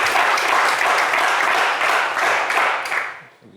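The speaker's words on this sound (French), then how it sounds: "On vous applaudit bien fort" Studio audience on a French television game show bursts into loud, dense applause that holds steady for a few seconds and then tapers off near the end.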